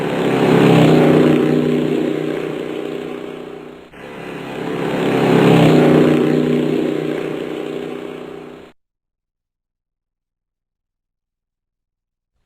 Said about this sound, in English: Right, an airplane.